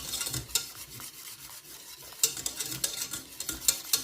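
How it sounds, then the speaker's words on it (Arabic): Garlic cream mixture being stirred in a pan with a utensil, giving soft scraping strokes and light clinks against the metal under a faint sizzle, steady and close, with no talking. "نبقاو نحركوه حتى يتكاتف داك الخليط"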